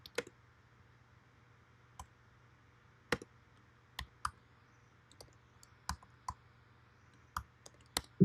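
Scattered keystrokes on a computer keyboard, a dozen or so sharp clicks at an uneven, hesitant rhythm over a faint steady hum, close and fairly quiet with no talking.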